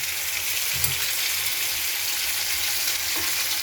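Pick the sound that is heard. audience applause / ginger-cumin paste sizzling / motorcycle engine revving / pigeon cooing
ginger-cumin paste sizzling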